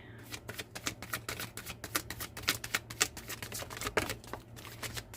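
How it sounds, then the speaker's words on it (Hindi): Tarot cards are shuffled by hand in rapid, rhythmic riffling flicks. The sound is close and crisp, over a faint steady hum, with no speech. "last shuffle"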